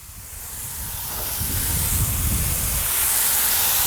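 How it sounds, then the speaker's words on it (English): Chicken pieces sizzling on a hot Gator Pit 24-48 grill, a loud, broad hiss that swells steadily and holds, with no talking over it. "You can hear the sizzling going on."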